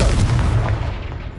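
A Confringo blasting spell detonates in a wizard-themed video game: a single loud, booming explosion that hits at once and fades out over about a second.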